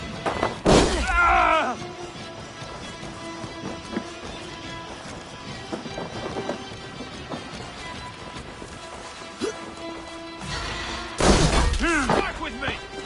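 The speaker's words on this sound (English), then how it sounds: "Someone smashed the alarm" In the video game Kycklingfight an alarm is smashed, with a loud shattering crash at the start, a quieter clattering stretch, then a second heavy crash near the end.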